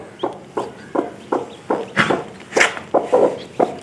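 A hen with newly hatched heavy-breed Aseel chicks makes repeated short clucks in a quick regular rhythm, close and clear, some calls louder and sharper, with no speech over them.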